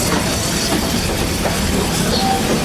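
The Walt Disney World Railroad train rumbles along its rails between Frontierland and Fantasyland stations, a loud steady clatter close by with faint hiss.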